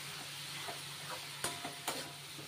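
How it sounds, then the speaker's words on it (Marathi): A pan of tomato-onion masala sizzles softly while turmeric and asafoetida are stirred in, with a few faint scraping clicks of the spoon against the pan over a steady low frying hiss. "एकदा मिक्स करून घेऊया।"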